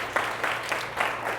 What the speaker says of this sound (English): Let's clap it up for that, everybody.